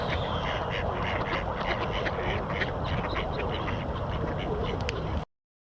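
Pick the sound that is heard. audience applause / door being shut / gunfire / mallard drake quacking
mallard drake quacking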